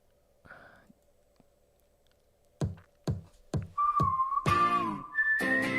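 Whistled melodic notes from a song, pitched and sustained, follow a series of sharp percussive clicks and build into a loud, bright whistle line over the track.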